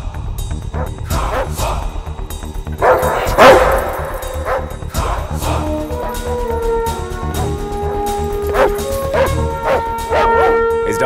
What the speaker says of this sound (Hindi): इस डॉगी को यहां से हटाओ